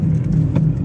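City street traffic in Târgu Mureș, with a loud, close car engine rumbling steadily and a slight rise in revs partway through. No talking.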